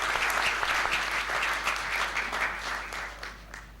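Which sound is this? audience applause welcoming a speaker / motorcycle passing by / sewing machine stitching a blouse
audience applause welcoming a speaker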